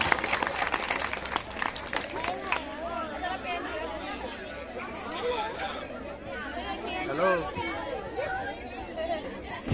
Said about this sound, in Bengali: একটু জোরে করতালি হোক সবাই মিলে